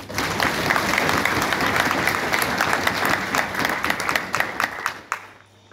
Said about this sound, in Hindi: ताली दिया साक्षी के लिए।